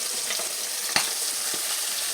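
Floured mustard chicken wings fry in hot oil with a dense, steady crackling sizzle close up, broken by one sharper pop, with no voices.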